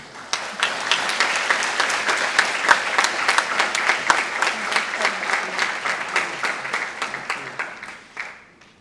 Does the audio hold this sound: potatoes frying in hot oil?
no